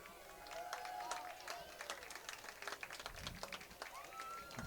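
Crowd in the stands at a high school homecoming football game applauding the marching band, scattered claps and cheers fairly distant and faint, with voices and whistles mixed in.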